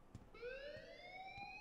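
An alarm sounds in the video game Life is Strange: a rising, wailing siren-like tone sweeping upward, steady and moderately distant, with faint thuds underneath and no talking.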